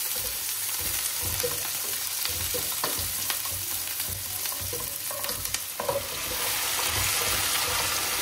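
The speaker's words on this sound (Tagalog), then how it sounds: "Gigisa na tayo." Chopped onion, garlic and ginger sauté in a pan with a constant close sizzle and repeated scraping stirs, growing slightly louder toward the end, no voices.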